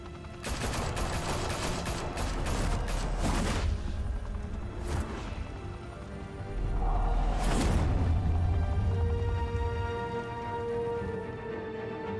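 Sustained gunfire in the Batman Telltale game: heavy automatic bursts and booming shots rattle in waves with brief lulls, loud and close, with no talking over them.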